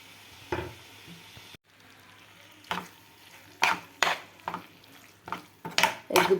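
Cut boiled eggs go into a frying egg curry: a low sizzle underneath, then a sequence of loud clanks and scraping strokes from stirring in the pan, growing busier toward the end; no speech.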